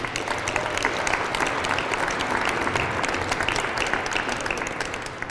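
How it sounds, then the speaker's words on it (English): Steady, dense applause fills a city hall celebration for the Glenville Tarblooders, a large crowd clapping continuously and evenly at close range with no pauses. "I think that deserves a round of applause"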